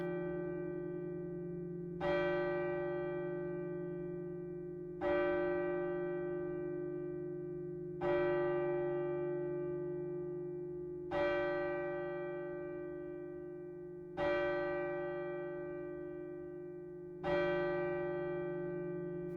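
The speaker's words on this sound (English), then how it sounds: "the chimes of a neighbouring church struck the 4 quarters" A neighbouring church bell strikes slowly and evenly, six resonant chimes about three seconds apart, each ringing out and decaying over a steady hum, with no voices.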